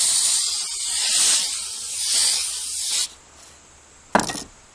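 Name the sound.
spraying triple thick clear glaze on back of plate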